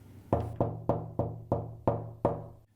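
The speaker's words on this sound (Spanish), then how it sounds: "Justo en ese momento, tocan a la puerta." Knocking on a door, seven firm evenly spaced raps about a third of a second apart, close and resonant with short ringing decay, no voices.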